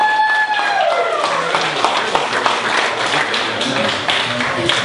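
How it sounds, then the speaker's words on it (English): Audience clapping for a contestant at a liars storytelling contest, a fairly close burst of scattered applause with cheering, a few rising whistles at the start and some background chatter. "Let's give Tommy Lawler a great big round of applause"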